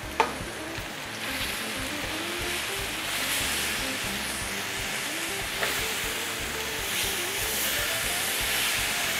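Moi (Pacific threadfin) fillet sizzling steadily in a hot pan, a continuous broad frying hiss with faint crackles, close and even throughout with no talk.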